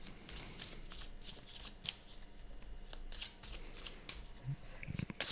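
A deck of tarot cards being shuffled by hand, with repeated riffling and soft slaps of cards in close succession, loud and close, with a faint voice in the background.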